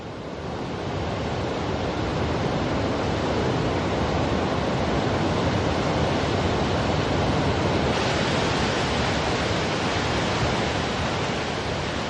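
Glacial meltwater rushing down near Briksdal glacier in Norway, a steady loud roar of torrential water that holds constant throughout.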